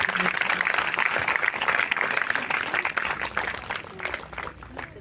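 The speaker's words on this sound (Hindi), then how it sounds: "जोरदार तालियां बजाएंगे," A congregation at a Sunday church service applauds loudly in a dense, continuous burst of clapping that gradually thins toward the end, with voices mixed in.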